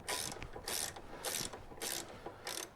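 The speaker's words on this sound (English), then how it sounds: "If I just keep going with my wrench rather than trying to do it with my hands." Ratchet wrench clicking as it loosens a swing arm bolt on a Honda CB360 motorcycle, five quick rhythmic bursts of close metallic ratcheting in a quiet garage.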